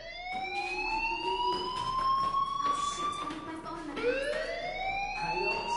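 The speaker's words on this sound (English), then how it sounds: "do you hear that fire alarm?" A fire alarm sounds inside the video game Life is Strange, a loud, continuous wailing tone whose pitch sweeps upward and then restarts, droning on without a break.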